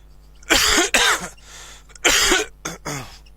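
Four harsh coughs from one nearby person, two close together, a pause, then two more, the last one shorter.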